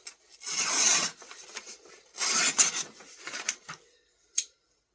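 An old, pitted, worn Sabre knife blade is sharpened with a rasping scrape, close up. Two long strokes are followed by several shorter ones, ending with a light click and quiet between strokes.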